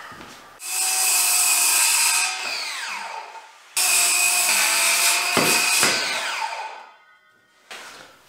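Power saw cutting wooden parts for a desk, two long bursts of loud whining cutting, each spinning down at the end, with a short start of another cut at the close.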